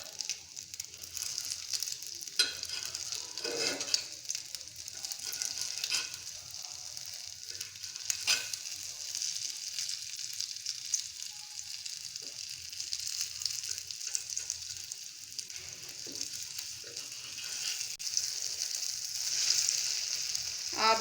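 Small pieces of egg roll frying in a pan, a steady close sizzle and crackle running throughout with occasional soft clinks and stirring sounds, no voices.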